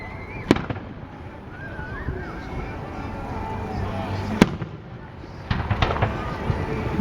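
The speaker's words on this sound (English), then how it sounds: "Lots of fireworks." Fireworks burst at a display in Bozeman, a few sharp, booming cracks and crackles at a moderate distance, with people talking and exclaiming around them.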